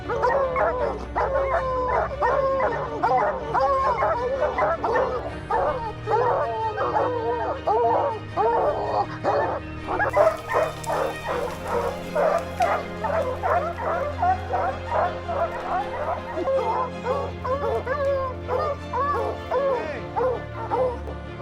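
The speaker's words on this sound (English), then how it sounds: "Alaskan authorities often use hounds and Karelian bear dogs to assist hunters in dealing with bears." Hounds and Karelian bear dogs bark continuously in a dense, overlapping chorus, with yips and howl-like cries, loud and close throughout.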